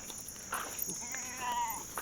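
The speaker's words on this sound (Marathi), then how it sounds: "एक नंबर शेळी बघू शकता" A female goat bleats a few times nearby, short wavering cries over a faint steady background hum.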